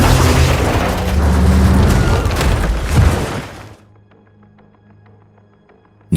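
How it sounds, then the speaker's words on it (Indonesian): A plane crashes with an explosion in a war film: a long, loud roaring blast that rumbles for several seconds, then cuts to quiet low ambience before a sudden final hit. "Pesawat Nikolai akhirnya jatuh"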